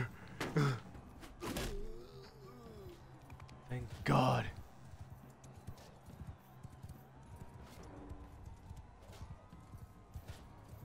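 Horse hoofbeats clatter in rapid clip-clop rhythm in Mount & Blade II: Bannerlord, steady and fairly faint beneath a voice and bursts of louder game sounds.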